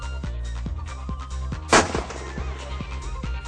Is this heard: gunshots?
yes